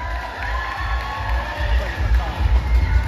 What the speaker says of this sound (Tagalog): Bakit hindi po natin sabay-sabay palakpakan at hiyawan